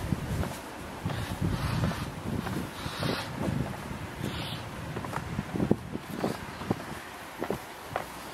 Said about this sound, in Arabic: الريح بزاف.